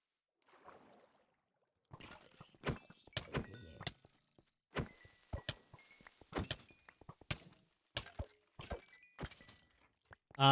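Weapon strikes killing mobs in Minecraft ring out as a rapid series of sharp, close thunks and hits, spaced irregularly over several seconds, with no talking.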